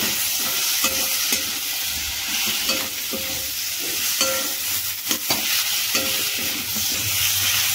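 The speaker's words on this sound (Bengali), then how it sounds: "এবার শুকো মাছগুলো দিয়ে নেড়ে নেবো" Dried fish being stirred and fried in a hot pan for a spicy Bengali chorchori, with a continuous loud sizzle and scraping spatula strokes throughout and no voices.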